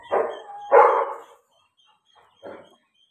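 A dog barks twice in quick succession, close and loud, then gives a softer third bark after a short pause.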